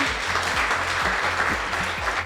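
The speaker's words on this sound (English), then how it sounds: "Let's give him a round of applause." An audience claps together at an after-hours talk, a dense continuous patter of applause at moderate loudness with no voices on top.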